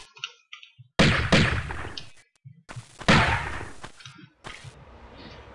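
Several sharp gunshots fired at a crocodile in the 1996 Tomb Raider game, Palace Midas level in Greece, come in two loud bursts with short gaps between them, mixed with game sound effects and no talk.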